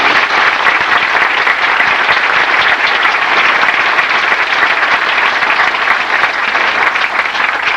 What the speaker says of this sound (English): Please join us in a round of applause for these fine young men.